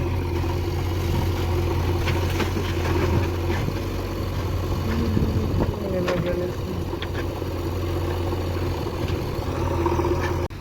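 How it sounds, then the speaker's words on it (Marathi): A tractor engine idles with a steady low rumble throughout, joined by scattered clanks and knocks of loading, and voices talking in the background. "आता आपलं ट्रॅक्टर लोडिंग होणं चालू आहे"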